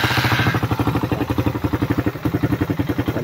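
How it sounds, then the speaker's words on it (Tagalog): A Suzuki Raider motorcycle engine, overheated and starved of oil, runs noisily at idle close by, with a fast, steady clattering pulse throughout. "Madali na siya panda rin pero maingay ang makina."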